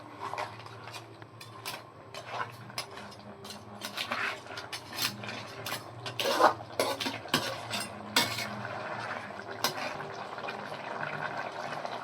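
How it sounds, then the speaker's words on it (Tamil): A spoon stirs crab gravy in a pot just after ground coconut paste goes in, with clinking metal scrapes and wet sloshing bubbling along steadily and close by, no voices. "நல்லா மிக்ஸ் பண்ணி விட்டுடலாம்."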